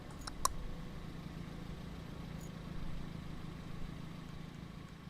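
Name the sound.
truck engine noise in video game RoadCraft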